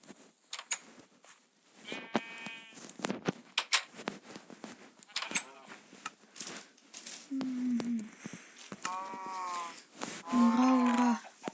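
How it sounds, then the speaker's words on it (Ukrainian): A cow moos twice, low and drawn out, in a Skyblock survival video game, amid scattered clicks, bleats and other barnyard animal calls, with a bit of background chatter. "А там корова."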